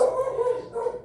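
A dog barks and whimpers continuously at close range, a steady run of yips and barks with no pauses.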